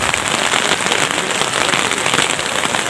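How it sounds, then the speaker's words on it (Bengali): A heavy hailstorm pelts down at Changu Lake in Sikkim, a loud, dense, continuous crackling patter of hailstones striking nearby surfaces, with no break and no talk. "এখানে প্রচণ্ড জোরে শিলাবৃষ্টি হচ্ছে"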